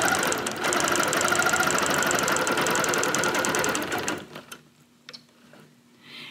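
A Bernina Q24 longarm quilting machine stitches during ruler work with a fast, steady mechanical chatter for about four seconds, close and loud, then stops, leaving a few soft clicks and taps.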